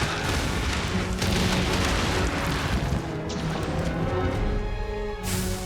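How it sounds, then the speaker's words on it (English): Explosive pine cones hurled by the monkey-like Bishaten in Monster Hunter, heard as dense, continuous booming blasts and crashing impacts over a loud, busy game mix, with a fresh burst near the end. "this Bishaten throws exploding pine cones"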